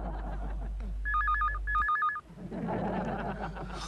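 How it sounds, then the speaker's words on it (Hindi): An old landline telephone rings indoors in two short, bright electronic trilling bursts, fairly close and clear, followed by a low room rumble and some background noise. "फोन जरूर कोकी का होगा।"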